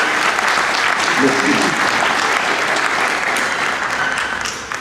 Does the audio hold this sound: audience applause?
yes